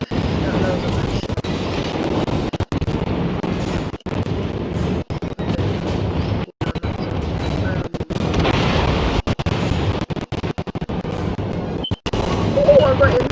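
Naval gunfire and explosions in the video game World of Warships, a dense, continuous stretch of booming shots and blasts with brief gaps, loud and close throughout, with a player talking over the battle.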